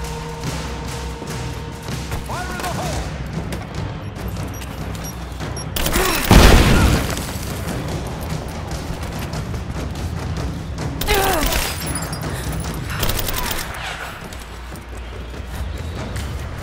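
Gunfire and blasts in the action game Rise of the Tomb Raider, with scattered shots and a loud booming explosion midway, followed by further bursts of firing over a constant background rumble.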